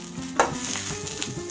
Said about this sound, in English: Wow, this side is also frying well.